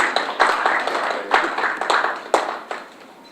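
A small group at a press conference claps in uneven bursts, with a few sharp, close claps standing out against a quiet room.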